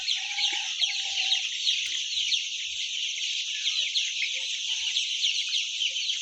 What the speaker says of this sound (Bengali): দেখেন মুরগিগুলো সবগুলো ভয়ে জড়ো হয়ে আছে এক এক জায়গায়